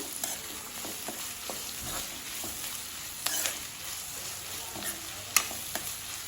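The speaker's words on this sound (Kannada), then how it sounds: "ಈರುಳ್ಳಿ ಸ್ವಲ್ಪ ಕಂದು ಬಣ್ಣ ಬರೋ ತನಕ ಇದನ್ನು ಹುರ್ಕೊಳ್ಬೇಕು ನೋಡಿ ಚೆನ್ನಾಗಿ ಫ್ರೈ ಆಗ್ತಾ ಇದೆ" Chopped onions fry in a pan for aloo bonda, a faint steady sizzle broken by a few scattered stirring clinks and scrapes, with no talking.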